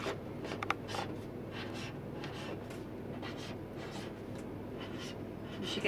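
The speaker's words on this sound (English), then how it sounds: "and then we're going to write Kelly." A pen or marker writing the name Kelly, a steady run of soft scratchy strokes up close, quiet and continuous with short pauses between letters.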